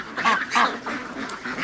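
Chinese goose honking in a few loud, close calls, in short repeated bursts with brief gaps between them, at a lakeside ducks' daytime area.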